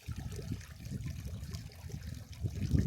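Water trickling in a backyard in Las Cruces, New Mexico, a soft, low, continuous burble heard faintly and alone, with gentle fluctuations throughout.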